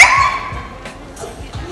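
A dog indoors at home gives a quick high whine or yip, followed by softer rhythmic thumps and faint yelps that trail off over a moment.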